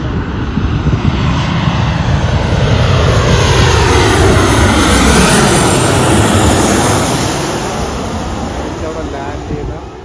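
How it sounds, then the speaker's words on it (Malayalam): An Air India Express plane approaching Calicut airport, its engines roaring loud and close in a steady, sustained rush that fills the whole stretch and eases slightly near the end. "ആ ഫ്ലൈറ്റ് നമ്മളടുത്ത് ലക്ഷ്യമാക്കി വന്നുകൊണ്ടിരിക്കുകയാണ്"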